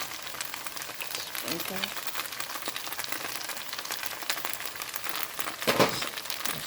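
Rice noodles with napa cabbage and leftover pho soup stir-fry in a pan, a soft steady sizzle with crinkly stirring and a louder burst near the end, under a brief spoken word.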